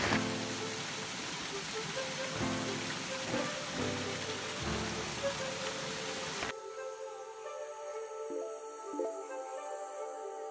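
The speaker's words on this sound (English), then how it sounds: "And it's pouring rain." Heavy rain pours on a house during Hurricane Florence, a dense steady hiss with rumbling patter that suddenly drops to a quieter, muffled indoor drip and hum partway through, with no speech.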